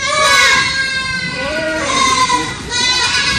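Young goat kids bleat loudly and repeatedly on a goat farm at milking and feeding time, their wavering high cries overlapping close by with someone talking amid the commotion.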